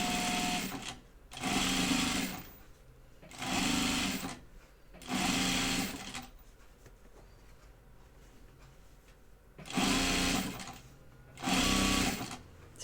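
A sewing machine stitches fabric for a floor pouf in short, close bursts of steady whirring, each lasting about a second, separated by pauses and a longer gap midway.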